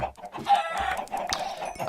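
Chickens in the Minecraft video game cluck in short repeated bursts, loud and close, with no talk over them.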